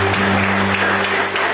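Congregation applause during a church worship service: steady, dense clapping throughout the short stretch, with a low sustained hum of instruments or amplification underneath.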